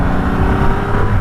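A Triumph Rocket 3 motorcycle with a 2500cc engine roars as it accelerates, a loud, steady, close engine drone with no gear change in this short burst.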